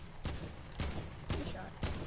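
Four evenly spaced gunshots from Fortnite Season 7 land about half a second apart. Each is a sharp, fairly faint crack with a short decay.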